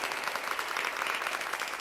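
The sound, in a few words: audience clapping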